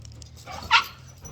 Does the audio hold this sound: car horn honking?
no